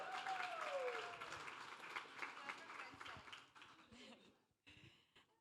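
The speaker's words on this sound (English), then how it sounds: "Round of applause for the friends." Wedding guests applaud the couple's friends, a dense burst of clapping that fades over a few seconds, with voices and cheering mixed into the crowd noise.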